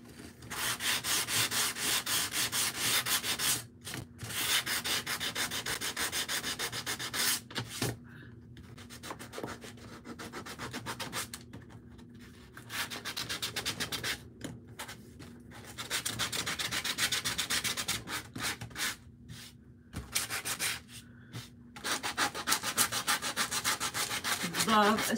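Sanding the edge of a squishy foam tabletop for budget DIY decor, a steady close rubbing scrape in long sustained strokes with brief pauses between passes, no talk.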